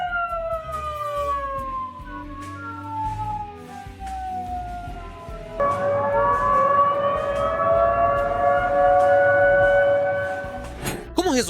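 An air raid siren wails loudly on its own, its tones gliding slowly down and then rising again into a sustained, piercing howl.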